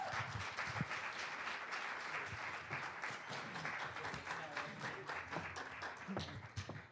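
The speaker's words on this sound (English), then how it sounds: "please have a big applause for Sabine Hviid" At a masterclass, an audience applauds a speaker with continuous, dense clapping that stays fairly even in level throughout the seven seconds, heard at a modest distance.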